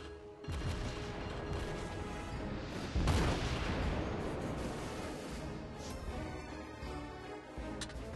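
A heavy tank gun blast in a video game booms out with a low rumbling tail, set against continuous mechanical battle noise and engine drone.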